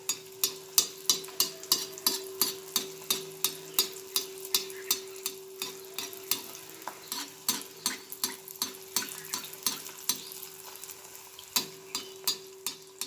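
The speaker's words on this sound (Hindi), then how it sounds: "अब इसमें हम चारों तरफ से तेल उड़ाएंगे" Sakroli, a sweet Konkani dish, frying in hot oil in a pan, with a continuous sizzle punctuated by a steady series of sharp splashes and ladle strokes as oil is spooned over it, no talking.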